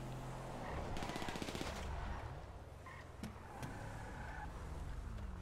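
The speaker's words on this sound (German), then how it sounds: "Oh, die ballern da schön." Rapid automatic gunfire crackles in a GTA 5 Online match, bursts rattling over a steady vehicle engine hum, moderately loud and sustained.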